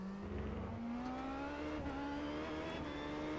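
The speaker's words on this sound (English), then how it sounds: "Get the brakes warmed up." Race car with carbon brakes driving to warm them up, a continuous engine note climbing slowly in pitch as it accelerates, loud and close throughout, with no voices.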